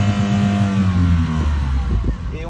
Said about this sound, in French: Le moteur démarre